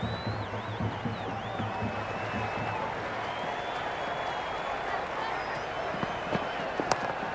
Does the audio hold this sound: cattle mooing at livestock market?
no